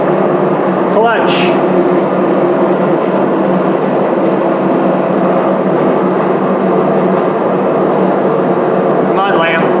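Pratt & Whitney jig borer running at half speed, a loud steady mechanical hum and rumble with a constant high whine filling the whole stretch, and faint voices briefly underneath.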